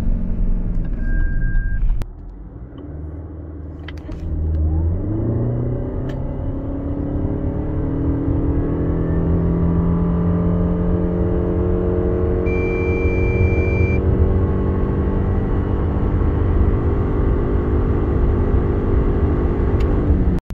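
Lexus RX 350h hybrid SUV with 2.5-litre e-CVT all-wheel drive accelerating hard to 100 km/h, a steady engine drone rising smoothly in pitch from inside the cabin, loud and continuous.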